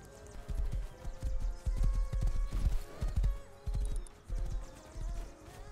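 Freed horses trot along in a video game, their hooves clip-clopping in a brisk, uneven rhythm of close, loud thuds, with an occasional whinny in the background.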